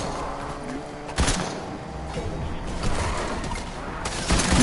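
Shotgun blasts in Fortnite, a few sharp bursts standing out over a busy background of game noise, with several loud shots spaced about a second or more apart.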